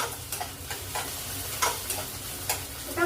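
Onion and tomato fry in a pan for a homemade sandwich filling, with a continuous sizzle under repeated spatula stirs and scrapes at an uneven rhythm, close up and without voices.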